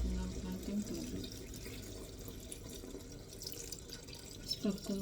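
Water pours into a pot of chicken curry with yogurt, a soft running, splashing stream heard close, with faint clatter and a brief voice near the end.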